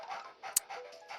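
A ghost dog in Luigi's Mansion gives short panting, whimpering yelps in a steady rhythm, close and fairly faint, with one sharp click in the middle.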